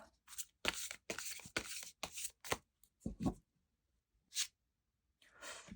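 Tarot cards are handled and laid out in a string of soft, close shuffling and slapping rustles, followed by a quiet stretch with a few isolated card sounds.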